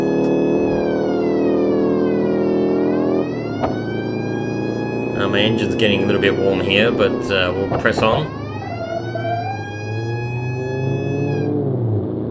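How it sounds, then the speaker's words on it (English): A police car siren in BeamNG.drive, a loud, sweeping wail that rises and falls over the rumble of a racing car engine, with someone talking over it; the siren cuts off near the end. "Just turn off the siren here because we're kind of in a open area now."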